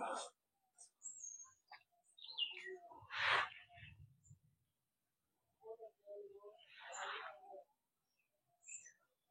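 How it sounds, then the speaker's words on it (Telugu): Peacocks call from an enclosure at Sri Venkateswara Zoological Park in Tirupati. Faint, distant cries come in two separated bursts amid sparse chirps from other birds, with near silence in between. "చూడండి నెమళ్ళు అరుస్తున్నాయి మీకు"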